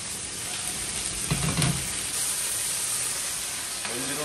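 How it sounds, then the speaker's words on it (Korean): Meat searing in a pot over high heat, giving a steady, close, crackling sizzle with a brief stir or scrape partway through, and no voices. "센 불에다가 겉만 바싹 익혀요."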